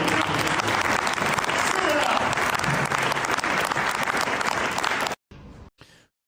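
An audience bursts into sustained, dense applause, many hands clapping loudly and evenly for several seconds before cutting out abruptly, followed by brief fragments of quieter sound.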